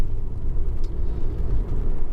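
A 2008 Honda Civic 1.8 i-VTEC EX five-door hatchback with i-Shift gearbox is driving over bumps. A steady, loud low road rumble fills the cabin with no harsh knocks or rattles.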